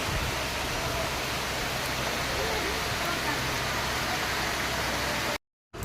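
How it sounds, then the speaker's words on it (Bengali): A heavy downpour roars as a dense, constant wash of rain, loud and close, before it cuts off abruptly near the end. "মুষলধারে বৃষ্টি হচ্ছে, এতটা পরিমাণে দেখো"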